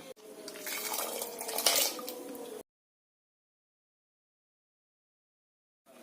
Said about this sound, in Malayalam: ഈ കപ്പ ഊറ്റി വെള്ളം ഊറ്റി കളഞ്ഞിട്ട്